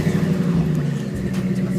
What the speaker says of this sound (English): The new Ford Eco Exhaust.